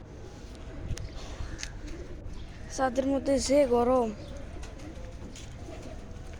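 A pigeon on a rooftop gives a short series of low, rolling coos that rise briefly above a quiet outdoor background, heard nearby amid soft ambient noise and a person talking.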